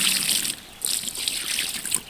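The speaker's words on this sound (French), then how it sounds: "On va y mettre un petit peu d'eau dessus." A small amount of water trickles and splashes over a freshly caught fish at a pond's edge, in two short pours with a brief pause between them, close by.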